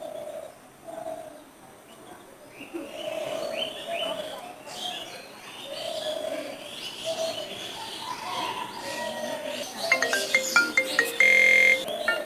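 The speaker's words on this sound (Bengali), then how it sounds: "সো এবার আমি আপনাদেরকে রিংটোনটা শোনাচ্ছি।" A custom name ringtone playing from a phone opens with soft, repeated bird-like coos and chirps, then brighter tonal chimes and a brief louder electronic burst near the end.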